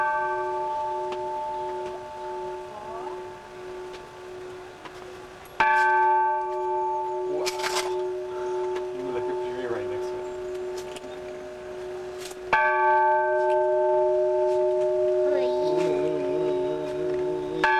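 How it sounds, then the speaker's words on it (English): A church bell in the Dominican Republic rings in loud, sustained metallic tones, struck again partway through so two fresh strikes ring out over lingering decay. "Ring that bell once more, Steve."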